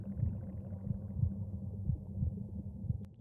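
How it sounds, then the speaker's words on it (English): Slow rhythmic heartbeat pulses of the conduit in the video game Minecraft, deep soft thumps repeating about every second over a quiet low hum, steady and unhurried with no voices. "we can hear that heartbeat"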